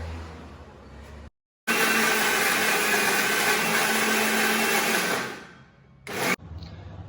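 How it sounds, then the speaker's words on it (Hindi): A mixer grinder whirs loudly for several seconds blending a smoothie, with a brief pause before it starts, then cuts off and gives a short final burst. "तो अब इसको मिक्सर में घुमाते हैं और टेस्टी स्मूदी बनाते"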